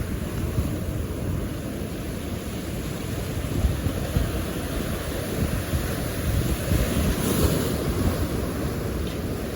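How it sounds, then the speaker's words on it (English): Hurricane-driven ocean waves crash steadily in shallow water near Nuevo Vallarta, a continuous loud roar of surf with wind noise buffeting the microphone throughout. "You can actually tell that the water is shallow, because that's what makes these waves crash."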